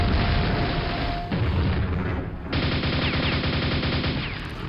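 Rocket and grenade launcher explosions in the video game Quake VR sound as loud, dense bursts of booming blasts and rapid pops that run continuously with no talking.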